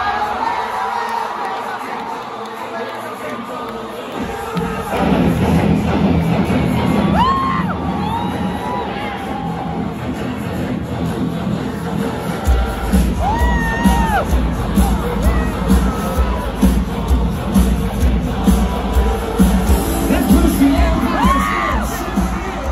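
A large crowd at a stadium concert erupts into loud cheering, whoops and shrill yells when the stage lights go dark. The roar swells after a few seconds and stays sustained and dense.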